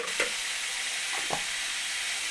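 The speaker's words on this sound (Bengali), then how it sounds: "নুন হলুদ দিয়ে দিয়েছি এবার একসঙ্গে ভেজে নেব" Potato pieces fry in a pan with salt and turmeric, giving a steady soft sizzle throughout, with a couple of faint stirring scrapes.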